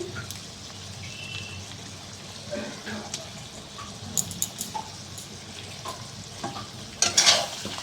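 Chicken kosha with tomato sauce fries in a pan and is stirred, giving a soft, steady sizzle broken by scraping and clinking of the spoon, with louder clatters near the end while someone talks.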